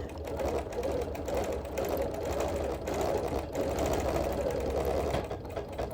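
A sewing machine runs steadily while quilting dense background stitching around appliqué and embroidery with very fine thread, a continuous close mechanical whir with brief dips in pace.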